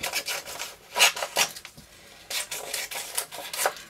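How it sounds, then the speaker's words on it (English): Scissors cutting paper strips of names, a series of soft, close snipping and rustling strokes in short irregular bursts with brief pauses, faint and with no voices. "So it's literally just going to cut out everyone's name."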